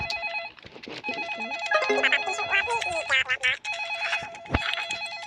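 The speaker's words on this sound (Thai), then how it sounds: "ต้องรับโทรศัพท์" A phone rings in the Roblox game Rushed Out, a repeated electronic ringtone pattern that runs through the clip, mixed with game music and effects and a voice speaking over it.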